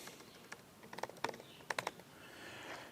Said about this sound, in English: whenever I'm typing code